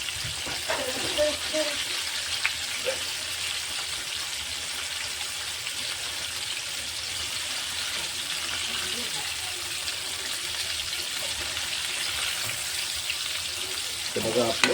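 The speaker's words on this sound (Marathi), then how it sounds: "तेल आपलं बघा एकदम चांगलं गरम आहे ना म्हणून बघा हे पनीर आपले खाली गुडाला चिटकले नाही किती मस्त तळत आहेत" Paneer pieces frying in well-heated oil for chilli paneer, a steady hiss and sizzle filling the whole stretch, with a person speaking over it at times.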